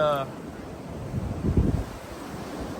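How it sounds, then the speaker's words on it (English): Strong gusting wind on an Appalachian Trail mountain path among mountain laurel and rhododendron bushes, a steady rumbling roar close to the microphone that swells for a moment midway. "look at the wind. It's an intense wind"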